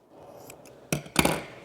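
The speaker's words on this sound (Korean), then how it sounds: "이거를 적당 부분을 좀 잘라주세요" A leftover strip of badminton racket grip being cut, two sharp close snips after a quiet pause, with faint handling rustle before them.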